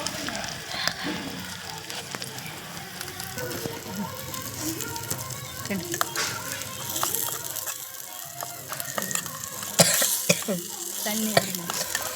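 Chicken curry stirred in a pot over a wood-fired stove outdoors, a soft, continuous sizzle with scraping and clinking of a ladle against the pot, some distant voices in the background.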